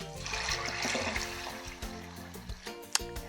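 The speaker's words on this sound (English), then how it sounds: "we want to pour about 8 cups of cold water over the" About 8 cups of cold water pouring steadily into a crockpot of black beans, a rushing, gurgling stream that gradually thins to trickles and a final splash.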